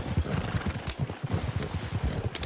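A horse hitched to a cart clip-clops along in Red Dead Redemption 2 during a winter endurance race, its hoofbeats a steady, close, rhythmic trot with a brief whinny-like rise near the end.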